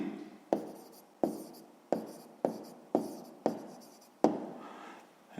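A pen scratches on paper while a sixth-grade math exercise is written out, sounding as a series of about eight distinct close strokes, each starting sharply and trailing off, with no talking.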